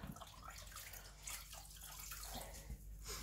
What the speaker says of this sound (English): rinse off your cloth